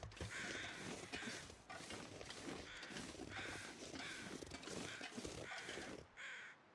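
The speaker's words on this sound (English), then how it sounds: "Overhead crows." Crows caw repeatedly overhead in the survival video game The Long Dark in Voyageur mode, a steady series of harsh calls over faint ambient wind.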